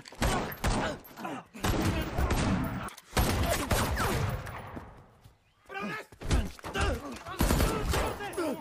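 Bursts of rapid gunfire crackle in volleys with short pauses between them, loud and close, with thuds and impacts mixed in.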